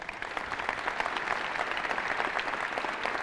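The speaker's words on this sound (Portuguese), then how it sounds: "uma salva de palmas aos nossos irmãos aqui" Church congregation clapping together, a brisk, steady round of many hands applauding for a few seconds, moderately loud and unbroken.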